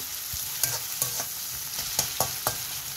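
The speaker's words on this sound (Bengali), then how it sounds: "এখন আমি দিয়ে দিব আদা আর রসুন কুচি। এটাকে লাইট ব্রাউন করে ভেজে নেব।" Chopped ginger and garlic fry in hot oil, a close steady sizzle punctuated by about seven sharp spatula taps and scrapes against the pan at an uneven rhythm.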